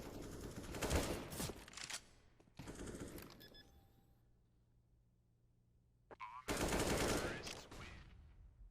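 Desert Eagle pistol fire in Counter-Strike, heard as two loud bursts of rapid gunshots that come and go with a quieter stretch between them, set against a low steady background hum.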